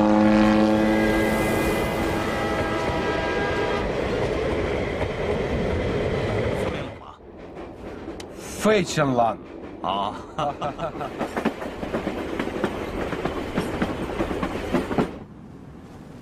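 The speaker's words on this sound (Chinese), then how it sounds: "主席的专列已经出发了" A train running along the China Changchun Railway sounds a long, sustained horn over a steady rolling rumble; the horn then stops and voices speak over the continuing rail noise and clatter.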